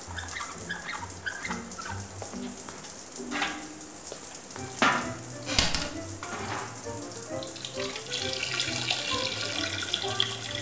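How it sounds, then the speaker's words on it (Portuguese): A cartoon toilet flush gives a long, loud rush of running water, swelling and surging through the middle with bright splashy bursts, and the gush stays steady to the end with no voices over it. "Mas eu só apertei a descarga."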